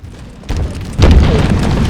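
Grenade explosions in Halo Infinite, a first-person multiplayer shooter: two loud booms, a smaller one at mid-clip and a heavier blast a half-second later, with a rumbling tail.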